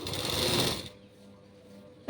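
A sewing machine stitches a sleeveless designer jacket, a loud steady run of motor and needle that stops abruptly, leaving quiet room tone and a brief click at the end.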